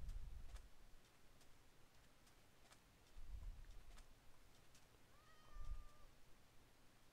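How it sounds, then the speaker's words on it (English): A Minecraft cat gives a single short, faint meow near the end, over quiet game ambience with soft ticking clicks and a few low thumps. "A cat."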